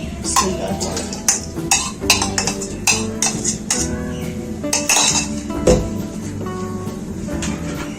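Marinated chicken for shashlik goes into hot oil in a pan. A steady run of close metallic clinks and scrapes from a utensil against the pan repeats irregularly over a low cooking hiss, and no voice is heard.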